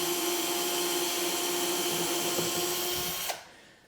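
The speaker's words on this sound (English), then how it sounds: "And then I'll just drill me a hole." Power drill boring a hole into the corner of a wooden drawer box during drawer installation, a steady close whine running for over three seconds before cutting off abruptly.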